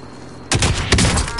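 Gunfire in the shooter game Warzone cuts in suddenly after a quiet moment: a loud, dense burst of rapid shots with a second surge just after, close and harsh, and no talk.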